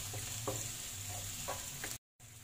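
Garlic sautéing in a pan for a no-bake lasagna, a steady close sizzle of frying with a few soft stirring scrapes, cut by a brief dropout near the end.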